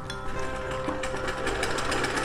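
A sewing machine runs steadily, stitching a double-folded fabric hem on a baby girl's top, with a continuous close mechanical whir and a faint rhythmic tapping throughout.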